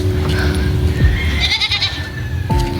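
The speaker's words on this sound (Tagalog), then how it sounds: "May kambing." A goat gives one drawn-out, wavering bleat close by on a street near a town plaza, followed by a sharp start of another call over steady outdoor background noise.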